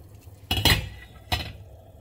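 A spoon or ladle scrapes and clinks inside a cooking pot as okra soup with sautéed lady's finger is stirred over medium heat, giving two short bursts of metallic rattling, the first longer, close and fairly loud, with no talk.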